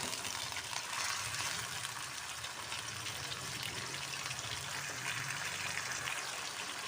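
Chicken fries with garlic and ginger in a pan for a Pakistani white karahi, giving a faint, steady sizzle and crackle with no voices.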